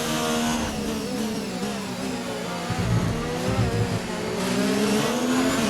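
Formula 1 car engine from F1 2019 on a race track, a loud, close, high-pitched whine that rises and falls through gear changes and throttle shifts, running continuously without any speech.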